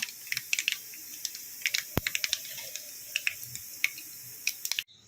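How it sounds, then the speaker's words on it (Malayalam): A teaspoon of mustard seeds sputters in about three tablespoons of hot coconut oil, producing a dense run of sharp, irregular crackling pops over a steady sizzle close by. "ഇതിനകത്തേക്ക് ഞാൻ 1 ടീസ്പൂൺ കടുക് ഇടും കേട്ടോ."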